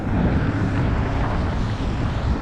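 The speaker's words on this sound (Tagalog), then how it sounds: "Tapos mahangin pa." Steady, roaring winter wind in Canada buffeting the microphone, a continuous broadband rush with no breaks and no voices.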